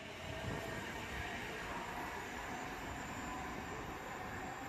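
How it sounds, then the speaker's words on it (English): A Midland passenger train on the Crewe to London Euston service passes along the West Coast Main Line at Rugeley Trent Valley, giving a constant rumbling wash of wheels and motors at a fairly close, even level with no talk. "Midland service to London Euston from Crewe."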